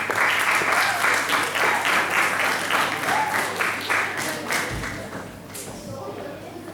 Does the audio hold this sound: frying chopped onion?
no